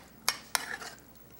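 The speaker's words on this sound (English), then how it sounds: "And I'm going to stir it." A spoon stirring chopped canned tomatoes in a pot gives two sharp clinks against the metal, then a brief soft wet scrape, close and fairly quiet.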